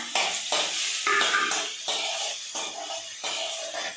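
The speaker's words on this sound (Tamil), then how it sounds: "வெங்காயம் கருவேப்பிலை, சின்ன வெங்காயம் பாதி பெரிய வெங்காயம் பாதி போடுறேன்." Small and large onions with curry leaves sizzle in a pan for a chicken and mutton gravy, a crisp crackling fry broken by regular scraping stirs about every half second, close and fairly loud.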